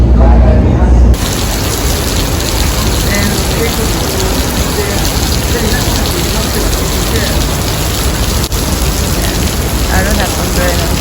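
Steady heavy rain falling on outdoor surfaces aboard a cruise ship at night, a dense, even hiss that holds constant and loud throughout, with a faint bit of talk mixed in.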